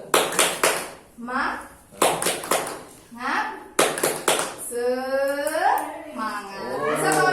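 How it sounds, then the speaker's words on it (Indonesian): A group in a training session does the tepuk semangat clapping game: short bursts of sharp, rhythmic hand claps alternate with chanted voices, and talking continues between and after the claps. "Tepuk semangat ini mudah sekali ya."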